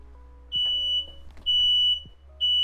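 A kitchen timer sounds three sharp, loud, high electronic beeps at an even rhythm, each lasting about half a second, in a home kitchen while pork, potatoes and cabbage roast.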